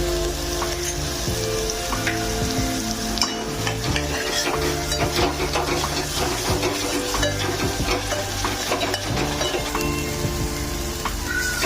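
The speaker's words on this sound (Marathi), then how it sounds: "तर अशा प्रकारे आपला हा मसाला परतून झालेला आहे." Red chili powder and ghati masala fry in a pan for a village chicken rassa, a loud continuous sizzle broken by frequent scraping stirs and small clatters, close and steady throughout with no voices.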